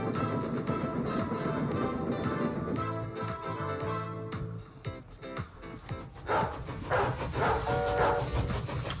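A train passing along a railway, a dense rattling clatter of wheels and cars rolling by close with rhythmic clicking, fairly loud throughout and fading into hiss near the end.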